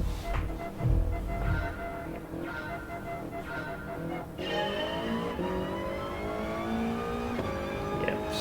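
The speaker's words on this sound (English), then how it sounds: "So I'm pretty much trying to rev out here as much as I can." Race car engine in GT Sport held at high revs on a rolling start, a loud sustained drone with rising and falling harmonics as the throttle is blipped, several revving surges running throughout without talk.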